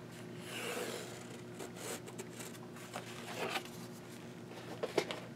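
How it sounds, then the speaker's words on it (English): A pencil traces across canvas fabric, giving soft, close, scratchy rubbing strokes in short irregular bursts. "So again, I'm going to trace it with my pencil."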